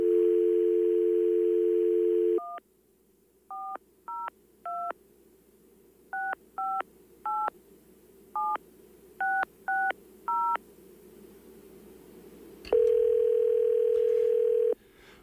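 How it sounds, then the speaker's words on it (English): A telephone keypad being dialed: a steady dial tone, then a string of short, evenly spaced touch-tone beeps in quick bursts, followed by another steady tone, clear and close with no talking. "You're going to call Jim."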